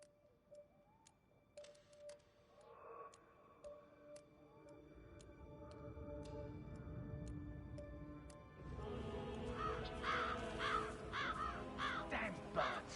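Crows caw in a Hitman 3 level, harsh repeated calls at moderate distance over a low ambient game bed, joined later by faint ticking and a swelling background drone.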